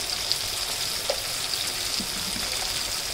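Chilli powder, turmeric and salt frying in mutton fat for homemade ghugni, a steady soft sizzle with faint stirring scrapes, heard close and alone.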